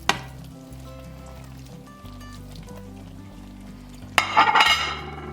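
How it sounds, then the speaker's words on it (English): Beef tipped back into a pan of simmering, thickened sauce, with soft kitchen clinks over a low hum, then a brief burst of sizzling and stirring near the end. "That sauce has thickened up, so now I'm gonna add back in my beef."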